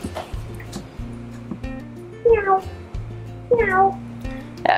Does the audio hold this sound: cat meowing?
yes